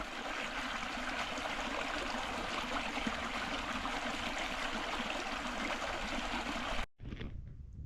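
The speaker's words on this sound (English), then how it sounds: "Creek's a little low, but it's still flowing." A low creek in Florida flows and trickles steadily in a continuous rush, close to the microphone, cutting off abruptly near the end.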